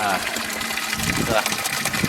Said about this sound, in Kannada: ನೀರು ಚಾಲು ಮಾಡಿದ್ವಿ, ಬಕೆಟ್ ತುಂಬಬೇಕಷ್ಟೇ.